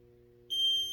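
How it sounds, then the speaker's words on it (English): A single sustained high electronic beep from a timer in an elementary school CrossFit P.E. class starts midway and holds steadily, fairly loud over a quiet low hum. "When it beeps,"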